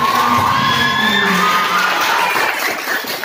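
Children at a Bahrul Ulum Tambakberas school event shout and cheer with scattered clapping, a loud crowd of young voices with rising whoops that tapers slightly near the end.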